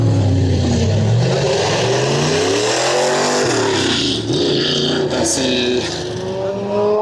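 A loud car engine revs hard and roars continuously, pitch climbing and falling as it accelerates close by.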